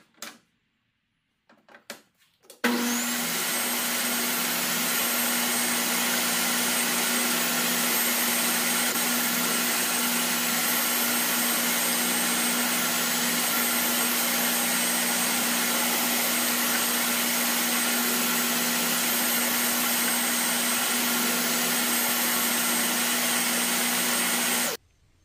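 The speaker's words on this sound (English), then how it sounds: "Ahora tengo que seguir moviendo el table saw para seguir abriendo la canal aquí." A table saw runs steadily for over twenty seconds, cutting a groove partway through a wooden piece for a pigeon basket, starting abruptly after a brief quiet and holding a loud, constant whine with a low hum.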